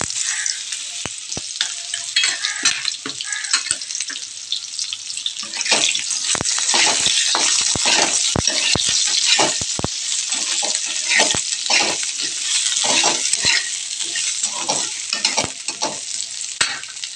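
Washed potato and eggplant fry in oil with panch phoron, five-spice, a dense crackling sizzle held close throughout, punctuated by scattered knocks and scrapes of a spatula against the pan.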